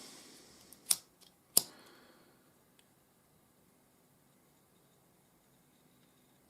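Scissors snip the excess cord from a cobra weave paracord bracelet, two quick crisp cuts close by in an otherwise quiet room.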